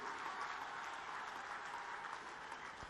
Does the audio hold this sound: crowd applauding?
yes